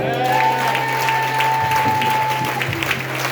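A church congregation applauding during a sermon, loud sustained clapping from a crowd filling the room, with sustained musical tones underneath.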